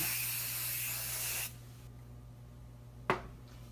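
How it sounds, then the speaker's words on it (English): Hairspray from an aerosol can, a continuous close hiss lasting about a second and a half, then quiet followed by a brief sharp click or snap. "Again, lots of hairspray."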